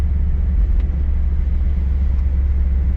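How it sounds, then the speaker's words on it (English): A car with a 305 TBI engine runs with a steady low rumble, the idle uneven and faintly surging as the accelerator is feathered, close and continuous for the whole stretch with no talk over it. "So the car is still sputtering."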